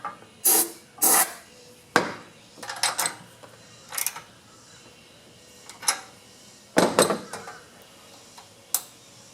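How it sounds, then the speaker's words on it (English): Starting fluid is sprayed into a small engine in several short, sharp bursts of hiss, spaced irregularly against a quiet background. "I'm going to shoot a little starting fluid in there."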